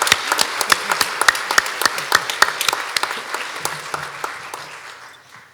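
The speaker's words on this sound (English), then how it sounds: "please give them a round of applause." A crowd at a school board meeting claps in steady applause, dense and lively at first, then thinning and fading out toward the end.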